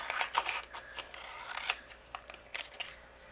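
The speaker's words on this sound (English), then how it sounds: "I'm going to go ahead and trim this." Scissors trim paper for a handmade floral card, a series of quick crisp snips at close range with short gaps between cuts.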